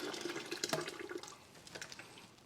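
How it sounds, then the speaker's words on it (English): Pureed chili pepper mixture is poured back into a pot on a Blackstone, a quiet, uneven liquid splash and slosh that swells briefly, then settles into a soft trickle. "So we're going to just pour this right back in here."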